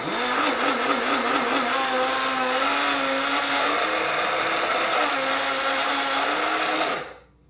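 A coffee grinder in a cluttered home kitchen runs as one continuous, loud whirring drone for about seven seconds with a slightly wavering pitch, then abruptly winds down into silence.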